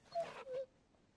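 A young dog pup in Final Fantasy XVI gives two short, high whimpers close together, soft and plaintive, then falls quiet.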